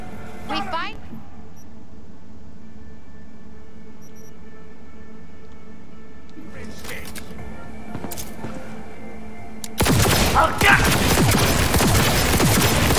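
Gunfire from a Night City firefight in the video game Cyberpunk: a few faint, scattered cracks early on, then a loud, dense burst of shots near the end.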